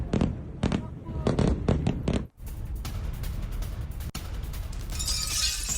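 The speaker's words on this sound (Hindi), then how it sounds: "इंटरनेशनल एयरपोर्ट पर आईडीएफ ने यह हवाई हमला किया है" Israeli airstrikes hit Beirut international airport with a quick run of sharp, loud blasts, followed by a sustained heavy roar and rumble broken by another sudden crack.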